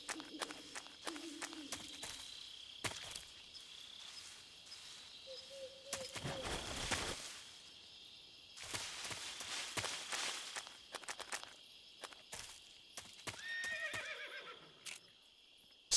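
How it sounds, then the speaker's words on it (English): A stock horse sound effect from a retro video game, with several whinnies and neighs alongside clip-clop hoofbeats and other short effects, clear and close, with no talking. "Stock horse sound number 9."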